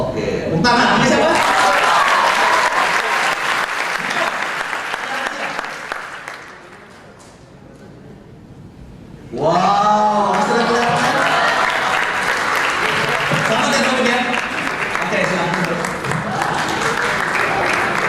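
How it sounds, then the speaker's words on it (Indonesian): Audience applause at a young entrepreneurs seminar, loud dense clapping that fades into a brief lull, then a speaking voice over renewed sustained applause. "Oke, tepuk tangan."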